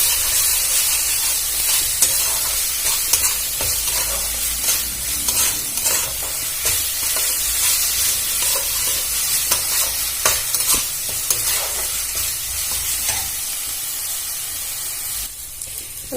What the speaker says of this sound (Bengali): আমি আবারও ভালো করে নাড়াচাড়া করে এটা ভেজে নেবো